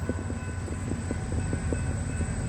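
Australian steel freight train rolling past with EMD SD70 locomotives in the consist, a steady rumbling roar with regular clicking wheel beats on the rail joints, fairly distant and continuous.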